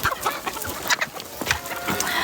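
Chickens in a coop dug into a mountain cave cluck repeatedly, close and fairly loud, with overlapping clucks and squawks filling the short stretch.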